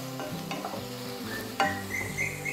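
Ginger, garlic and green chilli pieces go into a hot pan for a hotel-style makhani gravy, sizzling steadily with a few stirring scrapes and a sharper burst of frying partway through; no one speaks.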